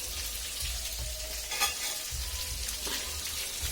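Spice paste sizzling in a pan as warm water is poured in, a steady broad frying hiss with a brief louder burst near the middle, close and alone.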